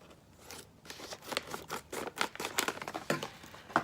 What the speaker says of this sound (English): Oh, I have my scissors.